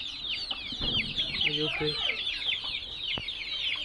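Free-range chickens clucking on a Bangladeshi farm raising native chicks, with busy overlapping clucks and chirps close by while someone speaks briefly over them.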